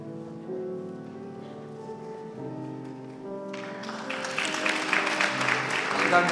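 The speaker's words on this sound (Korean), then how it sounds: "한 분 한 분 받으실 때에 큰 박수를 부탁드립니다." A church congregation begins clapping for newly ordained deacons at a retirement and ordination service, with applause swelling in after a quiet stretch of sustained tones and growing louder toward the end.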